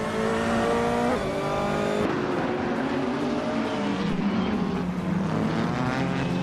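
A 2018 BMW M 220 race car in a racing video game, its engine roaring loudly and continuously with shifting pitch as it accelerates and changes gear, alone without talk.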